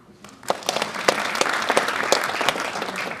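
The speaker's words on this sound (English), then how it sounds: "Let's hear from the clap." A small audience at a Toastmasters meeting breaks into applause, scattered claps building quickly into steady clapping that continues for a few seconds.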